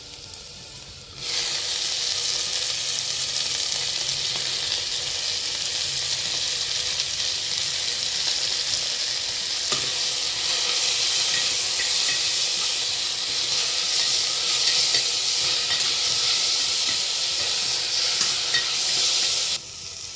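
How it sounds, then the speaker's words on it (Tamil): Mint and coriander leaves sauté with onions in a hot pan, giving off a loud, steady sizzling hiss. It starts abruptly, holds for about twenty seconds under occasional stirring, and then cuts off. "புதினா கொத்தமல்லி நல்லா வதங்கிருச்சு."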